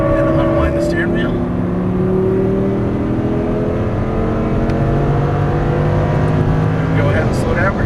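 A V10 Audi R8 race car engine roars on a racetrack, loud and sustained with rising and falling pitch as it accelerates and shifts, while a person talks over the engine noise from inside the car.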